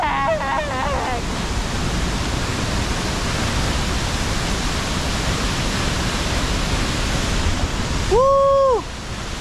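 A waterfall roars steadily up close, a loud broadband rush that runs through the whole clip, with brief voices at the start and a short whistle-like sound near the end.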